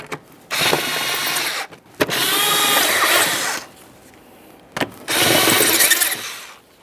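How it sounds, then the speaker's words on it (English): Bolts being run into the air filter housing of a 2007-2013 Acura MDX 3.7L V6 with a power tool, three loud whirring bursts close by with short pauses between them. "Start in each of your 4 bolts and tighten them up."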